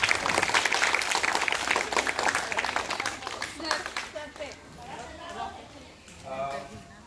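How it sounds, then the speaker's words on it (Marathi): A crowd at a college NSS event claps to welcome guests, loud dense applause for about three seconds that thins into scattered claps as voices start talking. "सर्वांनी टाळ्या वाजवून त्यांचं स्वागत करा"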